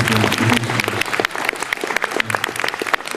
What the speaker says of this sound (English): an extra round of applause for Jeff